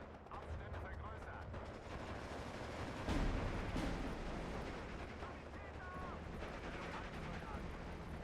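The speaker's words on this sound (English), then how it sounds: "They start firing again, he is screwed" Steady battlefield gunfire from the World War II strategy game Steel Division 2, during the Tiraspol campaign: dense rifle and machine-gun crackle with distant artillery rumble, swelling to a louder burst midway and continuing throughout.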